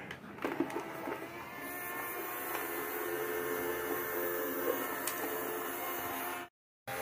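A cheap robot vacuum cleaner, under 60 reais, runs steadily with its side brushes spinning, giving a constant whirring hum with a faint tonal whine. The sound cuts out abruptly near the end and then resumes.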